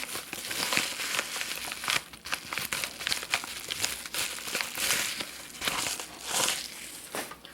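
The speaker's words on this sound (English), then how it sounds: "This one I can just tear the top off." Close, continuous crinkling and ripping of a paper mailer package being torn open at the top, with bursts of tearing and rustling throughout.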